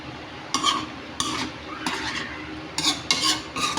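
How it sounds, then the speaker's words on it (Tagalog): Bisaya-style adobo is stirred in a pan, with a spoon scraping and clinking in about seven distinct strokes over a soft sizzle, close up and with no talking. "Luto ng adobong Bisaya."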